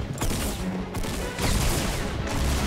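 A double barrel shotgun fires in Fortnite, several heavy blasts landing in quick succession with booming, dense bursts close up.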